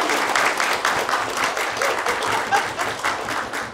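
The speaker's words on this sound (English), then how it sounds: "I think you just missed a big round of applause." A big round of applause from a gathered audience, dense steady clapping from many hands at close range, sustained throughout without talk.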